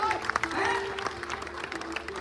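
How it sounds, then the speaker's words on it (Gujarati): Applause for Udaybhai at a Ganesh arrival procession in Bhavnagar, with scattered crowd clapping in brief bursts, mixed with loud voices of people talking nearby. "ઉદયભાઈ ને પણ તાળીઓ ના ગરગડાટી"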